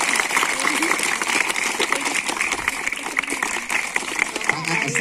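An audience at a Ramadan gathering applauds steadily, a dense, continuous wash of many hands clapping together, with talk over it.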